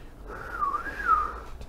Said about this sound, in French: Nous avons sifflé.